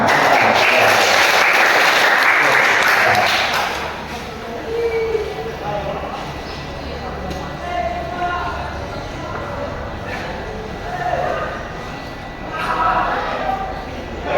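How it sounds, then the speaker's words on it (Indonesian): Classroom audience applauding during a teaching session, a dense burst of clapping for the first few seconds that then fades into quieter room noise with scattered voices. "Ya, tepuk tangan."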